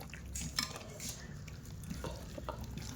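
Dried fish being mixed by hand with spice powders in a bowl, producing a soft, continuous scraping and stirring with faint clinks of a utensil, close and moderately quiet.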